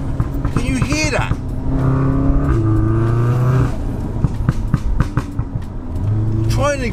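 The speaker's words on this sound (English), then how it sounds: "So let's now focus back our minds even onto the turbo spool, the sound of the turbo spool." Turbocharged car engine held around 4,000 rpm on a stock setup, with a high rising turbo whine over a droning engine tone and brief revving surges; a person talks throughout.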